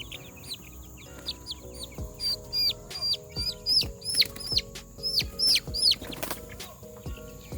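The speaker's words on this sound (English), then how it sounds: "There's the birds in their new home." Baby chicks out on grass for the first time, giving repeated high, bright peeping calls in quick bursts, close and fairly loud, with low thuds and fluttering beneath and no talking.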